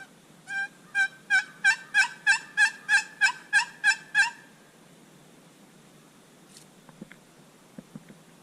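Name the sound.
hunting turkey call imitating gobbles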